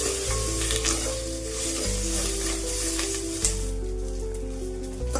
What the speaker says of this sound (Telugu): ఇందులోనే ఒక టీ స్పూన్ ఆయిల్ వేస్తున్నానండి, కొంచెం క్రిస్పీగా ఫ్రై అవ్వడానికి.